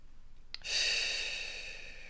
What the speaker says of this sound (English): I'm going to pause one more time again and breathe with me.